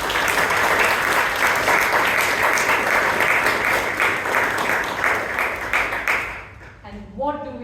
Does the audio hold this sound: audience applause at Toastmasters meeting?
yes